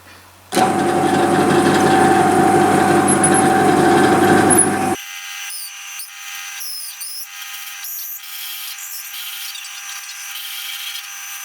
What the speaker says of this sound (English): So I'll turn on the lathe, then you slowly advance the drill bit into the blank